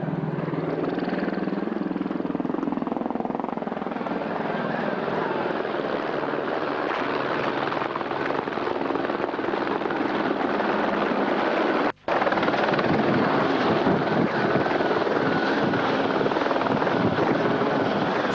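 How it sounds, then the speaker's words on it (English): A helicopter drones and thrums continuously, close and loud, with one brief dropout partway through. "Fuel, spares and other necessities had to be flown in by helicopter."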